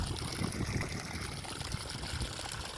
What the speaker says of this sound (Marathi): जागेवरच पाणी आता टाकतो आम्ही झाडांना असं पाईप पाणी आळे भरले की लगेच पुढे जायचं